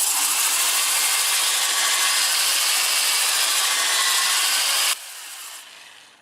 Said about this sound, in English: I'm going to do some sanding on it right now.